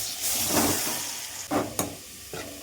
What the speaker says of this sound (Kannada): ಏನು ಮ್ಯಾರಿನೇಟ್ ಮಾಡಿಟ್ಟಿದ್ವಲ್ಲ ಆ ಮಶ್ರೂಮ್ನ ಹಾಕ್ತಾಯಿದ್ದೀನಿ